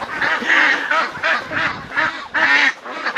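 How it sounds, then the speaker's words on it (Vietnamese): A flock of white-winged Van Dinh ducks on a farm quacks loudly and close, harsh honking calls repeating in rapid overlapping bursts. "Đây là vịt đùa bầu cánh trắng."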